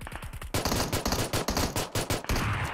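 Rapid automatic gunfire from a shooter video game during a ranked team match, loud, dense bursts of shots firing in quick succession with brief gaps, preceded by a few slower single shots.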